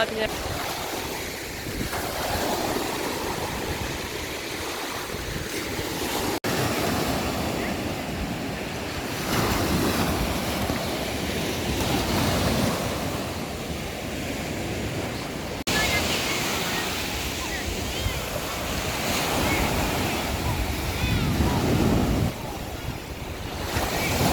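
Sea waves wash onto a beach in strong wind on a sunny summer day, a rolling surf roar rising and falling with gusty microphone buffeting, voices faintly mixed in.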